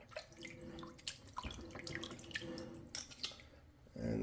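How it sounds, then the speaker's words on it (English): Tap water runs steadily over dyed Kansept Warrior knife parts as they are rinsed in a sink, with close, soft splashing and scattered drips and knocks throughout. "So you want to get in there, rinse them off, wipe them off really good"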